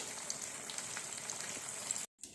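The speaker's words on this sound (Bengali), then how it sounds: "দেখো লঙ্কাগুলো এইভাবে তেলে ভেজে নিতে হবে" Green chillies sizzle steadily in hot oil for a spicy chilli pickle, a dense continuous crackle throughout that cuts out briefly near the end before resuming.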